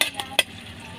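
Chili going into a hot pan for adobong bilaog in Romblon, with a steady frying sizzle under a few sharp clinks of a utensil stirring against the pan.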